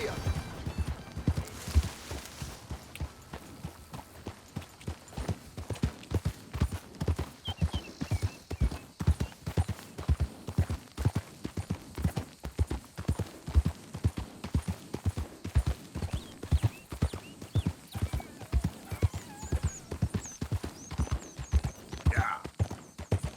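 Horse hooves clip-clop at a steady trotting rhythm throughout in the open-world western game Red Dead Redemption 2, close and distinct, with an occasional whinny and a faint voice urging the horse on.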